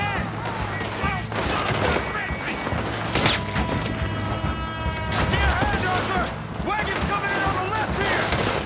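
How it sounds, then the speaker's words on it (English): Sustained fusillade of gunfire in the Western video game Red Dead Redemption 2, dense overlapping shots and crashes throughout, with game characters shouting over the shooting. "Just keep shooting!"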